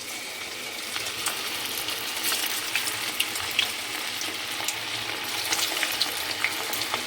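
Cauliflower gobi pieces fry in hot oil for a dry gobi fry, giving a steady, close, bright sizzle with scattered crackles and pops and no talking.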